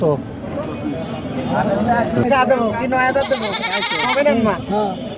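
A castrated goat bleats repeatedly in wavering cries, loud and close, over a busy background of crowd chatter at a goat market before Eid al-Adha.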